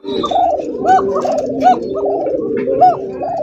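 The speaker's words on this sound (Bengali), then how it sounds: "দেখেন কত সুন্দর একজোড়া রাসগোল্লা কবুতর" Rasgolla pigeons cooing in a steady stream of overlapping throaty rolls, several birds close by, with rising coo phrases repeating every second or so.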